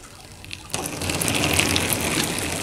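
A watered Nidularium bromeliad is turned upside down and its stored water gushes out all at once, a close, steady splashing pour lasting a couple of seconds.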